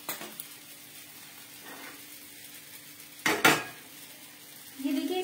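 Peas roast in a kadhai with leftover Amul ghee and are stirred with a spoon. The clip is mostly a quiet sizzle, broken by a few metallic scrapes and clinks, and one louder clatter near the middle.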